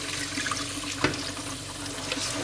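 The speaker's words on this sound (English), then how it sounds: "Just throw this water out again." Rinse water from washing lamb meat splashes out in a steady hissing stream with one short splash partway through, close by and alone.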